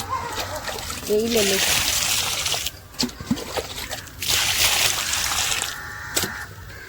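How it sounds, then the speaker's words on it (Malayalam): Water splashes and trickles onto soil around a newly planted tissue-culture banana seedling in several bursts, with brief pauses between pours and a person speaking briefly in between. "വെള്ളം കൂടെ ഒഴിച്ച് വെള്ളമായിട്ട് കൂടുതൽ"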